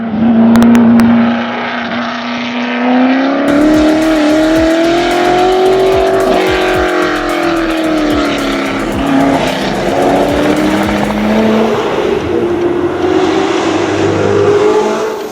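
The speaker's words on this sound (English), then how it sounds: "The GT tire burnout is insane." A Ford GT supercar with a 660-horsepower 3.5-liter EcoBoost V6 revs hard through a tire burnout, its engine note rising and wavering under a rough, sustained tire scrub, loud and close throughout.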